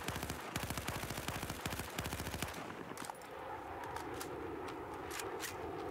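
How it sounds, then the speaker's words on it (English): Short bursts of automatic rifle fire crackle in Battlefield 4, three or four tight rapid volleys in the first half, then the firing stops and a low ambient hum with faint distant clicks remains. "We're going to fire at it. We're just going to do some bursting."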